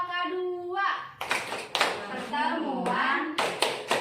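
A group of women performs a rhythmic clapping chant at a family training session, sharp bursts of claps alternating with sung and spoken chant phrases, voices prominent between the claps.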